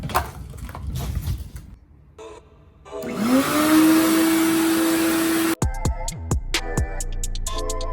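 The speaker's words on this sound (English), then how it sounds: "Probably help if I turn my vacuum on." Quiet rustling gives way to a vacuum cleaner whining up to a steady loud drone, then sharp clattering as the nozzle bumps across rubber car floor mats.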